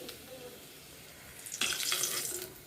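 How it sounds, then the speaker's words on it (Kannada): Two spoonfuls of cooking oil go into a pan in a home kitchen before papad are fried, a soft low hiss that swells into a louder, rushing pour-like wash for the final second, with no talking. "2 ಚಮಚ ಎಣ್ಣೆ ಹಾಕ್ತೀನಿ."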